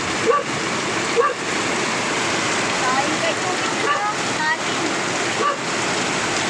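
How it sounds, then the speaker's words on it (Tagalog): Heavy, sudden tropical downpour pours down steadily as a dense, continuous hiss with a few faint thumps, loud and unbroken throughout with no talking. "Bigla na lang bumuhos ang napakalakas ng ulan"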